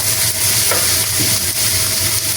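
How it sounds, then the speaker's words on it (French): Ingredients beaten with a spoon in a bowl for a beer roast recipe, a steady close stirring and scraping with sizzling texture and no talk. "Je suis en train de le battre parce que ma cuillère est passée dessus."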